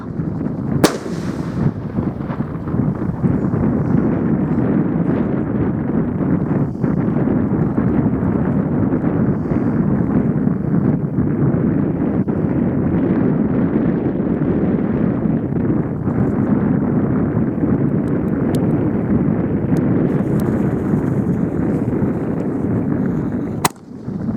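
Repeated small Artillery Shells firework mortar launches and bursts, loud booming cracks over a heavy rumbling roar, with wind buffeting the microphone throughout.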